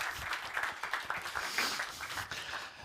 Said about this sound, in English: He gets an applause, doesn't he?